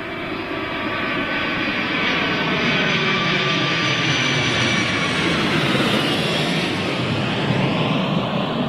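A DHL Boeing 757 jet roars continuously at Heathrow Airport, a loud, close, sustained engine rush with no speech.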